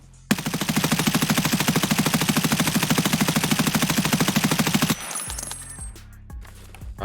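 An M4 rifle in jailbreak build fires a long fully automatic burst from a crouched position in Escape From Tarkov, loud rapid even shots for about five seconds, followed by casing clinks and quieter mechanical sounds.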